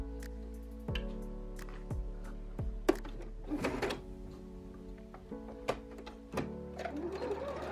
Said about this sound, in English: here's me setting up my sewing machine with black thread to get ready to sew this project